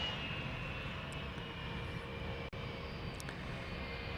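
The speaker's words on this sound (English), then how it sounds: "That's a Cessna Grand Caravan EX coming in from Lanai." A Cessna Grand Caravan EX turboprop arriving from Lanai at Honolulu airport, a steady distant engine drone and rumble holding throughout with a brief click midway.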